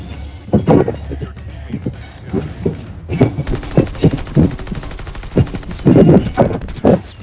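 Call of Duty Mobile gunfire comes as bursts of automatic shots and single cracks at mid-distance, partly under someone talking over them throughout.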